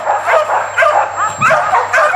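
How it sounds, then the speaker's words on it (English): Excited kennel dog in its run, eager for treats, giving a series of high yips and short barks in bursts, close and loud, over a faint steady hum. "this run is actually one of my private dogs, and somebody just realized I've got treats in my pocket"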